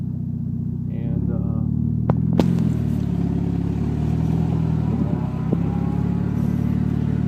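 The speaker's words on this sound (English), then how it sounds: "gonna actually back up here so you can see the reverse works, and all the gears" A Jeep Wrangler Sport's engine rumbles steadily from inside the cab as it reverses and drives, with a few clunks and clatters over the continuous drone, and a voice talks over it.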